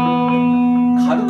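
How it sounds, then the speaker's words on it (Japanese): A Japanese-made Mosrite Ventures model electric guitar with a maple body and EMG pickups rings out through tape echo and reverb, one sustained note held steady and loud before a fresh pick attack near the end. "軽くがいいか、リバーブっていうか、このテープエコー、あ、この感じ。"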